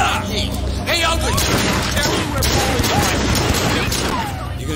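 Rapid volleys of gunfire from the Sleeping Dogs video game, dense overlapping shots and booms across the whole stretch, loud and close, with voices under the shooting.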